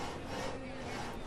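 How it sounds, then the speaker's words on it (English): A villager saws wood in the city-building game Banished, a brief, faint rasping scrape of a saw on timber that runs continuously with no break. "You're sawing away."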